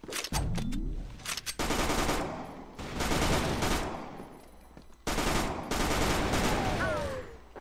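Rapid video game gunfire in dense bursts across the whole stretch, loud and close, with brief gaps and a rising whistle near the end, during a match scoring two headshot kills.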